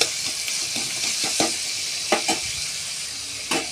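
Potato and pointed gourd curry with tomato and garlic paste is stirred in a frying pan, a close steady sizzle punctuated by quick scraping spoon strokes and a few louder clinks against the pan.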